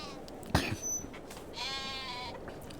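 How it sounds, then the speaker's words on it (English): A sheep in the Farming Simulator 22 game lets out a wavering, drawn-out bleat at moderate distance, preceded by a short sharp sound, over a steady background hum. "Sheep. We have sheep."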